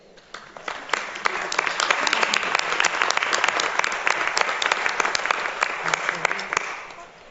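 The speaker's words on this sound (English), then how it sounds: "make sure you applaud your families and your parents who are here to support you today" At a city council meeting, young ladies applaud their families in a hall, the clapping swelling in, holding dense and steady, then tapering off near the end.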